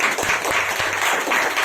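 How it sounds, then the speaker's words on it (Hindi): An audience at a Hindi church sermon breaks into steady, dense clapping that fills the whole short stretch without any voices over it. "ताली बजाएं इन लोगों के लिए, ताली बजाएं, बजाएं ताली"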